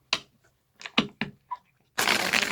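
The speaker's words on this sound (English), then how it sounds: "I don't know why I'm shuffling this deck again, but I am" A deck of cards is handled in a few quick riffling bursts and taps, close and fairly quiet, ending in a longer dense riffle.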